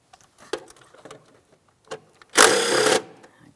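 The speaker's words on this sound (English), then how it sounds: "Let's go ahead and remove that mounting bolt." A throttle body mounting bolt on a 2007-2014 Ford Edge 3.5L is loosened with a power tool, with a few faint clicks and taps before one loud, steady half-second buzzing whir, close up.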